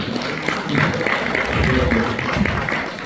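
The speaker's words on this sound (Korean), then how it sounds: "여러분들이 한번 크게 그 격려 박수 한번 좀 부탁드립니다" Forum audience giving a round of encouraging applause, a dense wash of clapping from a crowd indoors, fairly loud and sustained, with a voice faintly underneath.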